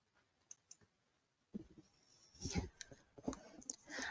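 Mouse clicks while working in RFEM 6 structural analysis software come as a couple of faint, sharp taps, followed by soft, irregular handling noises at low volume.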